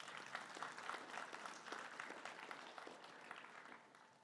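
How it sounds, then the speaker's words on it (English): Audience applause for nominated athletes at a college sports awards ceremony, a steady patter of clapping that stays fairly even and distant, then fades slightly at the end. "let's give them a round of applause for being nominated."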